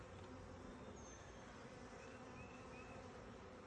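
A dense, steady hum of honey bees swarming around an opened hive, the buzzing continuous and fairly close, with individual bees whining past now and then and no voices.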